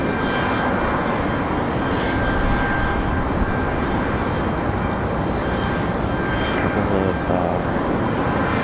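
Air Canada jet in all-black livery, a hockey team charter, at Raleigh-Durham airport, its engines giving a continuous loud roar with faint whining tones riding on top.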